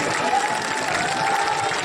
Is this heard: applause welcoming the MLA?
yes